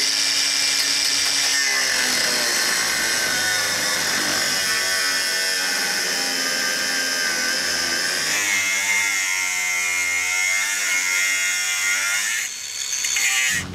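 A power tool cuts rusted metal out of the frame of a 1978 Jeep J10 pickup, a steady loud whine held without pause, the pitch shifting partway through as the cut loads up, with a brief dip near the end.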